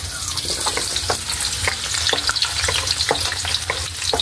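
Onions sautéing in hot oil in a pan alongside potatoes and carrots, a steady loud sizzle with intermittent crackles and pops throughout, no voices.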